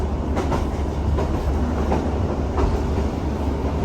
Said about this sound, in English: there's a Barnstaple train in the station